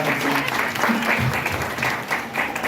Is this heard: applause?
yes